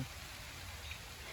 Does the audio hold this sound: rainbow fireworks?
no